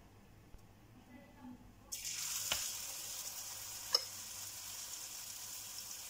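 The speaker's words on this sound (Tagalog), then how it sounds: "iprito na po natin ating tortang talong" Tortang talong, an eggplant omelette, dropped into hot oil: a sudden loud sizzle that settles into steady, close frying, with a brief sharp clink partway through.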